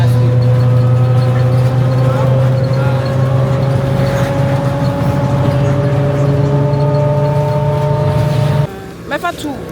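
A bus rides along a road in Ghana, its engine humming in a loud steady drone with road noise beneath, until the hum cuts out near the end, leaving a few scattered clatters.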